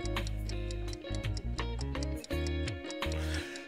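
A countdown clock ticks steadily through an online drawing game round, its regular ticks set against a loud melodic backing track.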